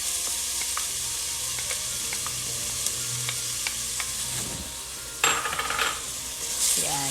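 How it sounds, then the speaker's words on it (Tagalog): Minced garlic sizzles and crackles steadily in a hot pan that already holds cooking white onions, with occasional stirring scrapes and a brief utensil clatter near the end. "And then we add in our garlic. So, our garlic is minced."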